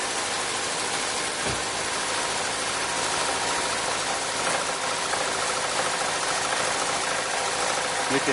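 A 1.9-liter engine idles with a light knocking or rapping from the bottom end, a steady mechanical drone with faint repetitive ticks running throughout.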